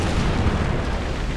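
Artillery fire strikes a city in Civilization V's WWII edition, a continuous loud, rumbling barrage of booms and blasts filling the whole moment with no voices.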